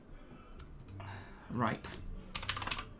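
Computer keyboard typing while entering text into an online translator during a password puzzle game, with fast clustered key clicks close by and a person briefly speaking.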